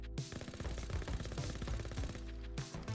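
An automatic gun in Call of Duty fires a steady rapid stream of shots for nearly three seconds, loud and close, with a brief pause near the end before the firing resumes.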